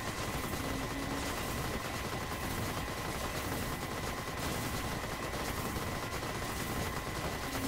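Constant dense rapid gunfire from the video game Vampire Survivors, with weapons shooting at sentinels, forming a steady crackling wash at a low level throughout, with no voices.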